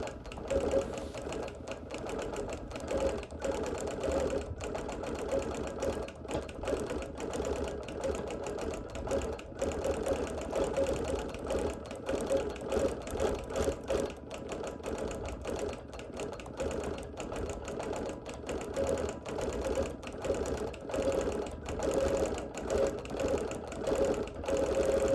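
A sewing machine stitching outline quilting around embroidery on a busy printed quilt runs steadily and continuously at close range, its rapid needle rhythm holding an even hum throughout with no talking.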